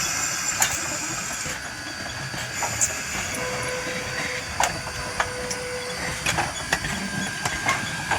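A small steam engine runs steadily at a heritage steam event, giving a continuous hiss and rumble with sharp clanks and clicks scattered through, heard alone without talk.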